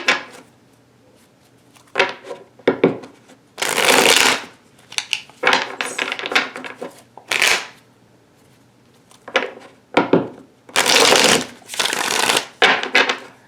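Tarot cards are shuffled and cut at close range in repeated bursts of riffling, rustling card noise with soft taps and slides between them.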